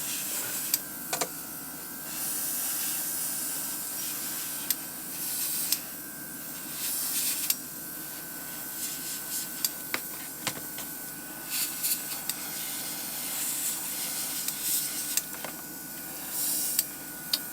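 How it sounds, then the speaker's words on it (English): An airbrush sprays black paint during a masking-tape Batman Beyond and Nightcrawler paint job, giving a steady, close airy hiss with brief bursts and small clicks as the trigger works, and no talking. "So it's like, it's not an aerosol, it's an airbrush."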